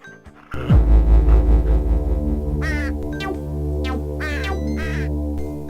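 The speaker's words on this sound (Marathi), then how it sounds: "शेरूने कावळ्याला पळवून लावले" A crow caws several times in harsh, repeated bursts over a steady music background in a children's cartoon.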